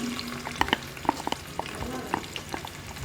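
Three chopped onions sizzle in a cup of hot oil in a cooking pot, with a steady, dense crackle. Sharp clinks of a spoon stirring the pan repeat through the sizzle.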